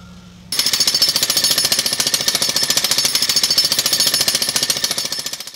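A jackhammer pounds steadily at a bridge construction site, starting abruptly after a brief quiet moment and then hammering loud and close in a fast, continuous rhythm without any talk.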